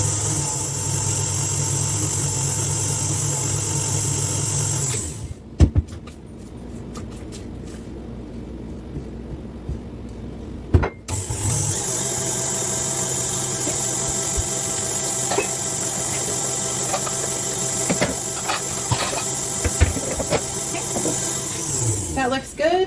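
A mixer beats cookie dough in a home kitchen with a loud, steady motor whir that cuts out for several seconds before starting up again and running on.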